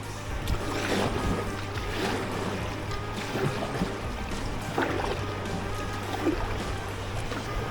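Canoe paddled down New Zealand's Whanganui River, with steady rushing water and splashing strokes close by under a low constant hum, broken by a few sharper splashes.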